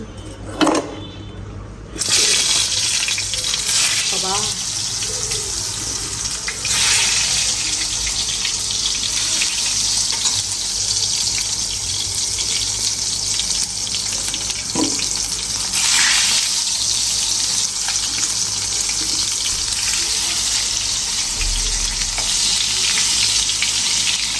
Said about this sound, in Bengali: এখন হলো আমি বেগুন ভাজবো তেল গরম হয়ে গেছে